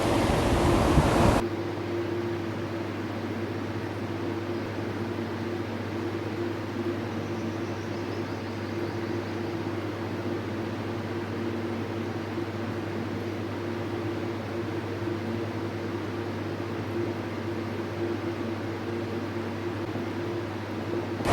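A blender motor whirs steadily at close range with a constant low hum, spinning continuously while blending mango pieces.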